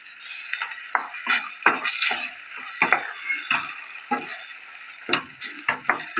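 Chicken and chickpeas sautéing for pilaf in a pan, with a steady sizzle under repeated scraping spoon strokes and a few metallic clinks, close and moderately loud throughout.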